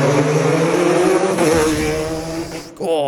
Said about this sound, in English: got a bit of that turbo spool in there as well